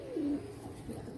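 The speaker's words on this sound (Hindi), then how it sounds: "ये तीन कबूतर एक साथ पकड़े हैं हाथ में" A Teddy pigeon held in the hand gives a single soft, low coo, faint and close, followed by quiet room noise.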